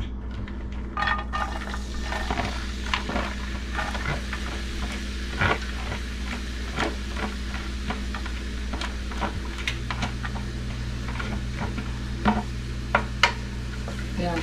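A knife chopping onion on a board for seafood paella, irregular taps spread across the clip over a steady low hum, with a few louder knocks near the end.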